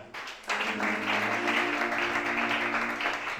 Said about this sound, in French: Acclame cela.